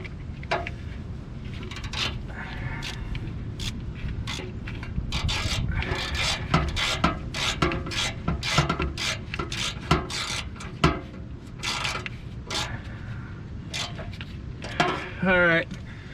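Wrench work re-snugging the oil pan bolts on a Chevy K2500 plow truck, a run of close metallic ratcheting and rasping clicks in irregular bursts over a steady low hum, with some brief voice near the end.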